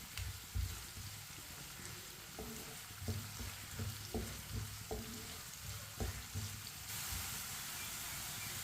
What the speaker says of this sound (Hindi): प्याज को ना हल्का सा ब्राउन कर लेंगे। ऐसे ही चम्मच चलाते हुए इसे ब्राउन करना है